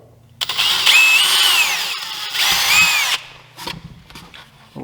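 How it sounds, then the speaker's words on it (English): A small 1/8 inch drill bit bores a pilot hole, two loud bursts of high whining drill motor separated by a brief dip, followed by quieter handling clatter. "Using a little 1/8" drill bit to make ourselves a pilot hole."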